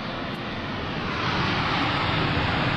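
US Navy Blue Angels jets at the 2003 Dayton airshow as the Diamond pilots come off afterburner, a loud continuous jet roar filling the air and building slightly.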